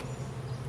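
Honeybees buzz in a steady, close, dense drone as a beehive frame is shaken to knock the bulk of the bees off, in a colony headed by a mated VSH queen.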